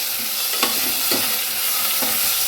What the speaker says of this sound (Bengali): আদা রসুন বাটাটা দিয়েও আমাকে ভালো করে কষিয়ে নিতে হবে